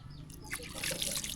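Water scooped and poured over someone's arm to wash it at a rural village home, a close, continuous trickling splash with voices faintly present underneath.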